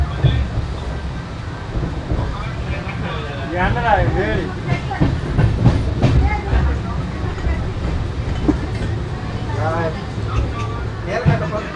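Samta Express running through Singapore Road junction, its wheels rumbling and rattling steadily throughout with wind noise on the microphone, heard from on board, while a voice talks over it.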